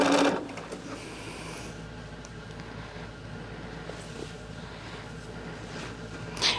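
A sewing machine stitches hourglass quilt blocks, running in a steady continuous whir close by with a brief louder burst at the start and end.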